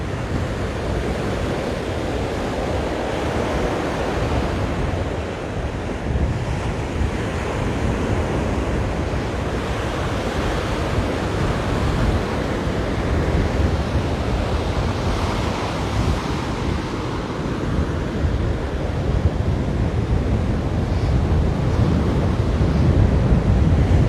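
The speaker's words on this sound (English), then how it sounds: "The waves are pulling the sand up." Continuous roar of surf washing onto Waimanalo Beach, Hawaii, a broad steady wash of waves with some wind buffeting the microphone, no voices.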